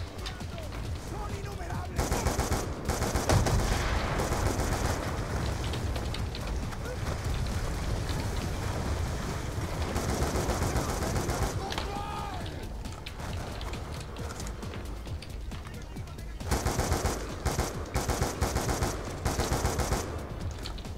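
Gunfire in the video game Call of Duty: Black Ops II, with dense automatic weapon bursts and scattered shots running continuously over a thick wash of battle noise, loud and unbroken throughout.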